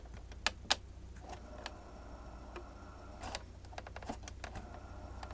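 An early 1980s Emerson stereo runs an 8-track tape, giving a faint low motor hum with scattered mechanical clicks and ticks, some sharp and close.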